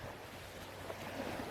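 Sea waves at Licuson Beach, Masbate, a faint steady wash of surf blended with wind buffeting the microphone, continuous and fairly distant, with no speech.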